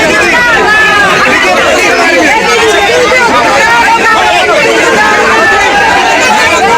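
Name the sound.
large crowd cheering Priyanka Gandhi in Ayodhya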